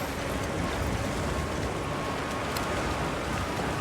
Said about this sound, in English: The rain's really coming down.